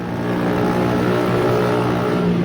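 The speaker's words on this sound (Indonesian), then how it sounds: "Seperti modifikasi yang satu ini, mengganti knalpot brong" A loud motor scooter with an aftermarket exhaust drones steadily at close range, its harsh, throaty exhaust rumbling with slight rises in revs throughout.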